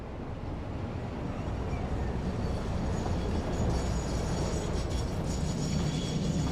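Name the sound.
freight train arriving at station in Satisfactory video game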